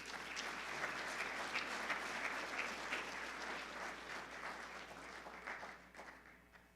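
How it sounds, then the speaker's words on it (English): Sustained audience applause fills a donor recognition dinner for the Montana FFA Foundation, a dense wash of many hands clapping at steady strength before tapering off slightly at the end. "give a big round of applause here for Matt McCamey"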